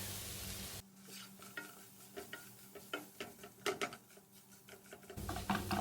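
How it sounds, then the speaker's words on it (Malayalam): Egg yolk filling being stirred and mashed in a pan for deep-fried stuffed eggs, giving irregular close scraping and tapping strokes over a soft sizzle, with no voices. "ഇത്രയും ചേർത്ത് നന്നായി ഒന്ന് ഇളക്കിയെടുക്കാം"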